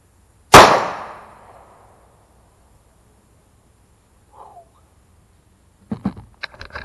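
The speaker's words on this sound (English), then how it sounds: "that 45 is quite a bit louder. It packs a lot more punch" A single loud, sharp .45 ACP pistol shot with a ringing decay, followed by quiet and a few faint clinks and rustles.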